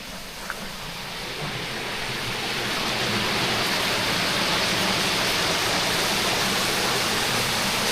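The Wellow Brook flows through a valley in East Mendip, a broad steady rush of water that swells slightly louder and then holds constant.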